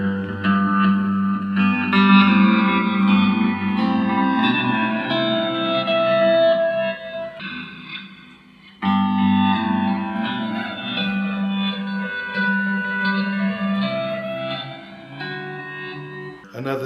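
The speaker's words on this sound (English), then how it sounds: "The reverse on the DD8 sounds like this." Guitar through a Boss DD8 delay pedal in reverse mode plays a Beatles-style fingerpicked passage, backward-swelling echoes and reverb washing over the notes, moderately loud with a brief dip before a second phrase.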